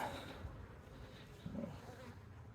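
Honey bees swarm-buzzing inside an open beehive while brood boxes are checked, a steady close, dense drone that continues throughout with slight swells and no talk.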